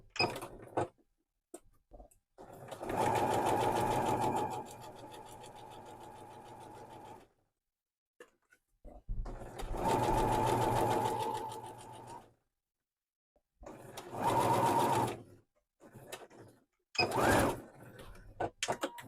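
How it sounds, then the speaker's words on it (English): A sewing machine stitches two fabric layers together during a welt pocket conversion, running in three sustained bursts of steady mechanical whirring with short pauses between them, close up and clear. "we're going to take this to the machine, and then we're just going to sew those two layers together"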